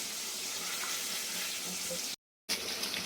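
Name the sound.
hilsa fish belly pieces with roe frying in oil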